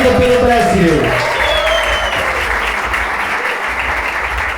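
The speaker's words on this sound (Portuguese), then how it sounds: "Sinta-se aplaudida pelo Brasil." Loud, close applause from a crowd celebrating a birthday honoree at a Brazilian event, starting over a fading sung note and continuing dense and steady.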